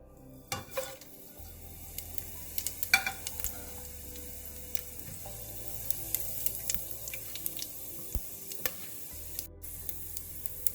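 Whole spices frying in hot oil in a pan for an egg chilli curry, a close steady sizzle with scattered crackles and occasional utensil clinks against the pan, no talk.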